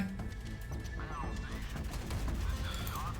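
Naval gunfire and explosions from the Modern Warships game, featuring the Chinese ShiYan ship, a dense continuous barrage of booms and blasts throughout, with voices calling out over the action.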